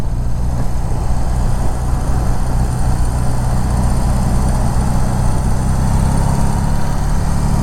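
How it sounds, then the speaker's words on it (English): A BMW R18 motorcycle fitted with Vance and Hines exhaust pipes rumbles steadily and loudly while riding, with a deep, continuous, buzzy low engine drone and wind noise throughout. "Got the Vance and Hines pipes on."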